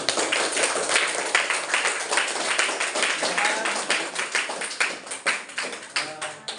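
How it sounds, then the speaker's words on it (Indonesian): Students in a classroom applaud group 1, a dense, steady burst of many hands clapping that thins into separate claps toward the end, with faint voices underneath. "Beri aplaus, tepuk tangan yang udah kelompok 1."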